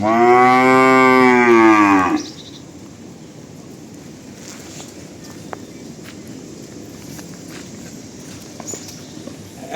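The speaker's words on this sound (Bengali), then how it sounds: "এই যে গরুটা আমি খুলে হাঁটাই দেখাচ্ছি" A single loud, drawn-out moo from a Jersey cow lasting about two seconds, followed by quiet background noise with faint scattered sounds.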